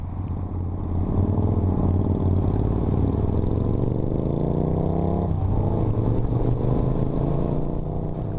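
A stock Suzuki Marauder motorcycle being ridden, its engine droning steadily and loudly with a smooth rising and falling pitch, close and continuous with no talking over it.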